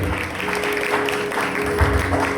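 A congregation applauds a brother during a sermon, a dense, continuous wash of clapping at moderate loudness with a steady low hum beneath it.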